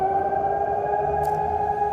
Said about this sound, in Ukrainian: Це навіть лунає відбій повітряної тривоги.